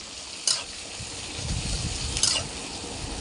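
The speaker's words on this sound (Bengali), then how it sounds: "লঙ্কা কুচি আর পেঁয়াজগুলো ভালো করে লাল লাল করে ভেজে নেব" Chopped onions and green chillies frying in a pan, giving a steady, close sizzle with faint crackle throughout, alone with no talk.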